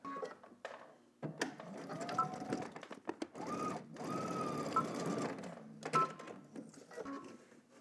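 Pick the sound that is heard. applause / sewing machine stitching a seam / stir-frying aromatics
sewing machine stitching a seam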